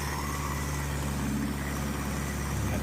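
Engine of a Chipmunk aerobatic aircraft during looping maneuvers, the throttle worked forward and back to hold maximum RPM; a constant loud, heavy droning roar with no pauses.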